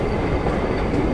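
A steady, loud rumble of a steam train rolling past close by, with dense rail noise throughout.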